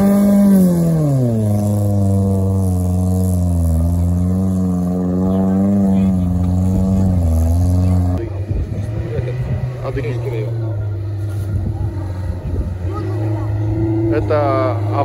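An off-road UAZ engine revs hard during a race, a loud droning note climbing and dipping in pitch for several seconds before dropping to a rougher, lower running sound with people talking nearby.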